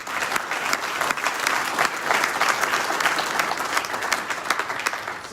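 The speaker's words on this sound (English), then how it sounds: "Please give yourselves a round of applause" An audience at a business recognition awards dinner applauds themselves, a dense, steady round of clapping from a crowd at moderate distance, with no speech over it.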